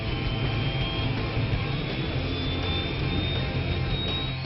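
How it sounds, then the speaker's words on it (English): The twin Shakti turboshaft engines of an LCH attack helicopter spool up with a loud, steady roar and a rising turbine whine. The sound holds constant and close throughout, with no voices. "The rumble of the twin Shakti turboshaft engines come to life, rapidly turning the rotors into a steady chop."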